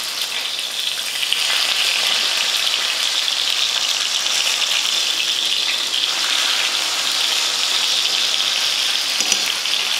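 Fish sizzles steadily in a hot frying pan, a dense continuous hiss that swells slightly after the first second and holds even and close, with no talking.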